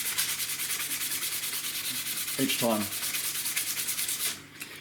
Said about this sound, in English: So you just need to keep sanding and keep sanding through that